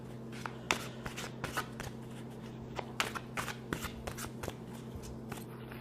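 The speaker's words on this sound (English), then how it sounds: "I don't know how people shuffle this deck." A large tarot card deck being shuffled by hand, a run of quick riffling bursts and soft slaps, fairly quiet and close, with no talking.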